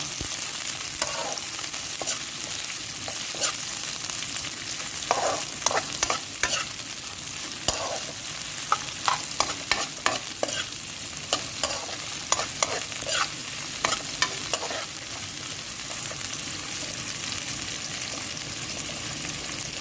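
Eggsticks frying in oil in a pan are stirred with a utensil, steady sizzling running throughout with repeated sharp scraping and clinking strokes, some in quick bursts, close and fairly loud.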